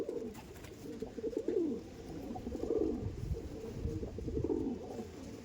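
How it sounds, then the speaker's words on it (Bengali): Andhra pigeons cooing close by, several birds overlapping in repeated low, throaty rolling coos that continue without pause and with no voices. "দেখুন পায়রা, দেখুন পায়রা দেখলে বুঝতে পারবেন।"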